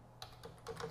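Computer keyboard keys tapped while entering a command to change into a project directory, a handful of quiet clicks in a short, uneven burst with no voices.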